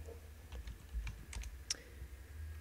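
Code is typed on a computer keyboard, a faint, quick run of scattered key clicks at close range over a low background hum, with no voice.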